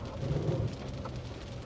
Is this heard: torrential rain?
yes